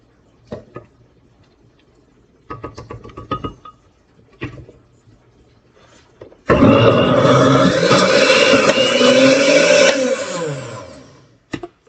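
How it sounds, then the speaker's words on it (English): A few light glass and utensil clinks come first, then a countertop blender roars loudly for about four seconds while mixing homemade mayonnaise, its steady whir winding down before stopping. "You don't want to over blend it."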